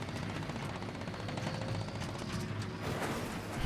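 Machine gun fire aimed at emus in an animated scene, a rapid, continuous burst of rattling shots with a mechanical drone underneath, loud and sustained.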